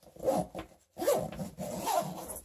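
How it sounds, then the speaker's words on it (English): Zipper pulled shut on a Coach Hamilton Day Brief men's briefcase bag, three rasping strokes close to the mic separated by brief pauses. "Zip it up, secure it."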